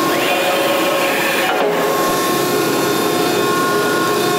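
Scotchman ironworker's automatic measuring positioner driving backwards, a steady loud mechanical whine and hum with a tonal motor pitch that sweeps downward early on, running continuously throughout.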